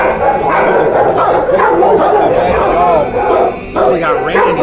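Many dogs bark and yip together at an animal shelter, a dense, loud, continuous chorus of overlapping barks and whines, with a person talking over the din.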